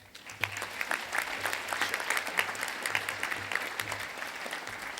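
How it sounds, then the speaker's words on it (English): Warm applause from a seminar audience welcoming a university presenter at a disaster preparedness conference, moderately loud continuous clapping with a low background hum throughout. "please give a big warm round of applause from Purdue University, Dr. Michael Baldwin."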